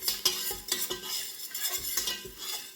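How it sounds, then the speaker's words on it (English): Thyme sizzling in melted butter in a pot, a soft steady fry punctuated by a few light scrapes and stirs of a utensil against the pot. "We're just going to let that thyme bloom in that butter so that the oil starts to release"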